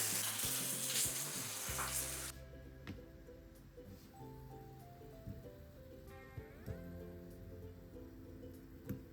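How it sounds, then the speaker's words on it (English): Garlic and sausages frying in oil in a pan, a steady close sizzle with crackling pops, much louder for the first two seconds, then a lower, continuous hiss with scattered spits. "put the garlic here and add more oil."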